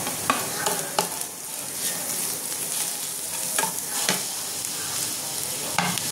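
Grated ginger, garlic and chopped green chilli stir-fried with reddish fried onions in a pan, a close continuous sizzle broken by several scraping stirs of a spatula, no talking.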